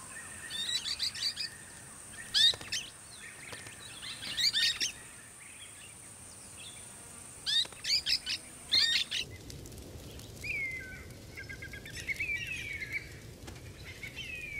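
Five-week-old parrot chicks call from their nest in dry-season Australian grassland, giving repeated high chirps and squawks in clustered bursts, fairly close, over a quiet hiss of background ambience.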